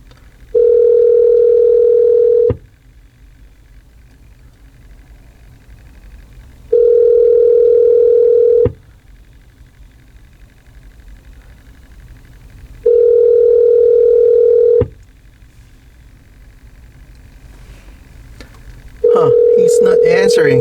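A phone call ringing through an Android car stereo head unit in a 2018 Toyota C-HR XLE, with a steady electronic ring tone in three evenly spaced bursts of about two seconds and a fourth starting at the end.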